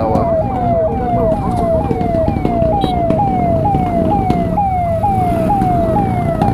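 A police-style siren from a TVS Ntorq Race Edition scooter yelps in fast repeating sweeps, loud and close amid traffic noise, steady throughout.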